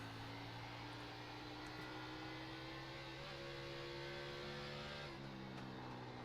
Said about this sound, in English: You hear the tires spin down the straightaway